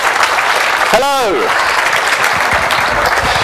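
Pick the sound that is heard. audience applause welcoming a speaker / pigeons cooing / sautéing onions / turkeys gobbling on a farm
audience applause welcoming a speaker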